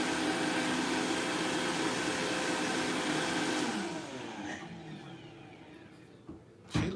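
A Vitamix blender making a smoothie roars at a steady high-speed whir, then winds down and fades over the last few seconds.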